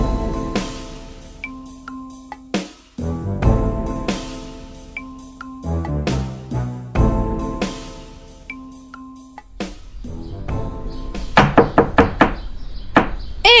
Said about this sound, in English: I thought that knock was for a man.